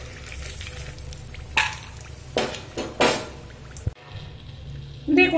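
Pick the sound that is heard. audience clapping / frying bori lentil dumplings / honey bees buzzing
frying bori lentil dumplings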